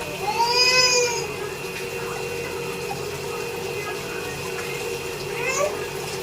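Tap water runs steadily while vegetables are washed in a home kitchen, a continuous hiss with brief squeaky sounds near the start and end.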